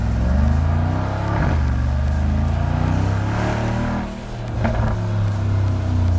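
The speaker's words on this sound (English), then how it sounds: "Now, you could buy a Brabus exhaust for your G63 standalone." Mercedes G63 with a Brabus exhaust driving with the windows down, a loud deep engine drone that rises and falls with throttle and gear changes, with no voices over it.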